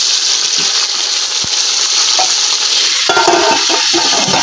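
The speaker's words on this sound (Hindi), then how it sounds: "प्याज हल्के ब्राउन हो गए, टमाटर मिर्चा पा लें" Onions sizzle in a pan as tomatoes and chili are added, a constant loud hiss of frying, joined near the end by the clatter and scrape of stirring.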